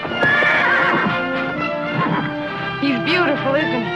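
An unbroken horse in a western drama whinnies loudly and repeatedly while its hooves clip-clop and scuffle nearby, with people talking over the commotion.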